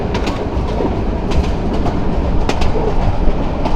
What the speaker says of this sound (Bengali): এই যে ট্রেন বাঘ দিচ্ছে, বিশাল বাঘ এখানটায়।